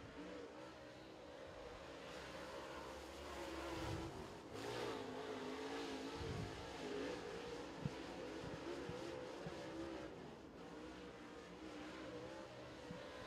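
A race car lapping Crossville Speedway during qualifying: a steady engine drone held under load at a moderate distance, with slight pitch swells as it circles the oval, continuous throughout.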